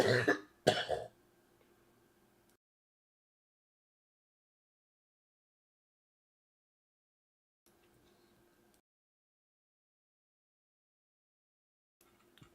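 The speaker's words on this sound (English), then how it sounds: "that was one of my coughing fits" Two or three harsh coughs burst out close and loud in the first second as part of a coughing fit, followed by near silence with faint rustles.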